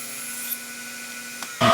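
A power saw set at a 15-degree angle hums steadily, then briefly bites into wood at the very end for a shallow starting cut, loud and close.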